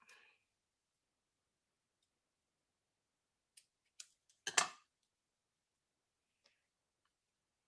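Scissors snipping paper at a crafting table, a few faint sharp clicks and one short crisp cut, with long quiet pauses in between.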